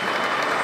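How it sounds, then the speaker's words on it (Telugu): Applause from the crowd at a political rally greets a guest, a short, dense burst of clapping heard up close. "చప్పట్లు కొట్టాలి"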